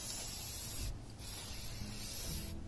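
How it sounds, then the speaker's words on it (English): A spray can hisses in long continuous bursts, pausing briefly twice, close and fairly quiet. "The next day I started spray painting it with this color of paint"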